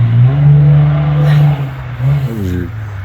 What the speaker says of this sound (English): I'm gonna let that car go by